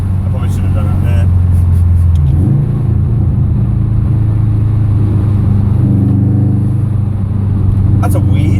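A 2011 Subaru WRX STI's exhaust rumbles loudly and close as the car accelerates, a deep droning note that steps up in pitch, with people talking over it inside the car.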